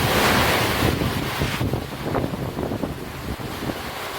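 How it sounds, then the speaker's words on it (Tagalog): Heavy rain and strong wind from storm Karina lash Laoag, Ilocos Norte, a loud roaring broadband rush with gusty buffeting on the microphone, easing slightly after the first second, no voices. "Malakas na ulan at hangin ang naranasan sa ilang bahagi ng Lawag, Ilocos Norte."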